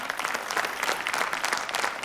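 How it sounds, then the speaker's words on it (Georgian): An audience claps in dense, steady applause throughout, loud and close, with no voices standing out. "ტაში არ უნდა ამას?"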